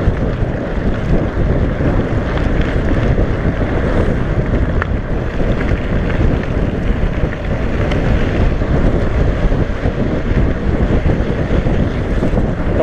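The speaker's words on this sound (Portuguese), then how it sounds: "Vou andar um pouco no vácuo do Ricardo aqui, porque tá vento contra." Strong headwind roars steadily into the microphone during a mountain bike training ride, a loud, continuous buffeting rush that lasts the whole stretch with no voices.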